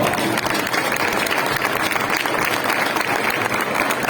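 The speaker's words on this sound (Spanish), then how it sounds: "Un aplauso para Eusebio." A crowd applauds steadily at an auction of prize-winning Gamoneu cheeses, a loud, continuous and evenly sustained clapping filling the room.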